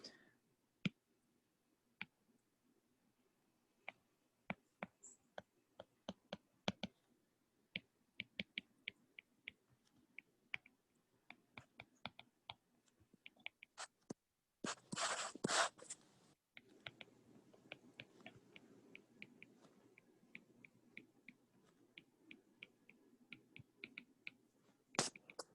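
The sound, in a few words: writing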